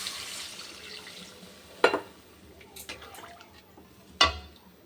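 Water is poured into a pot of spiced Bengali fish and potato curry, with brief splashing and liquid sloshing, two sharper clattering hits of a vessel against the pot, and a quiet kitchen background without talk.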